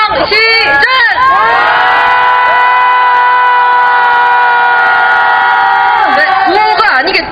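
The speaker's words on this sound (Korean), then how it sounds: "일본 대사관을 향해 분노 함성 시작." A protest crowd outside the Japanese embassy lets out a long, loud collective shout of anger, sustained for several seconds at full volume, with scattered individual yells at the start and end.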